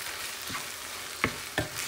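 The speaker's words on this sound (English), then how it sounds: "I'm going to let it simmer for an extra 15 minutes" Vegan mince and vegetables with tomato and herbs simmering in a pan, a steady close hiss with a few faint pops and a light stir scrape, no talk.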